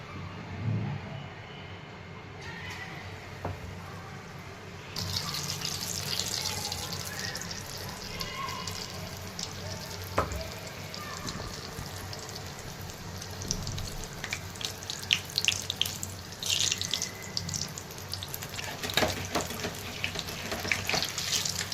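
Green chilies frying in hot oil for pakoras, a broad steady sizzle that gets louder and busier partway through, with scattered crackles and faint kitchen clatter, and no speech.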